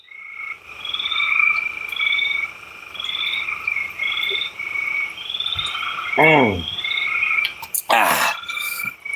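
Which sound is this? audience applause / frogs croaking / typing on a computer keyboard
frogs croaking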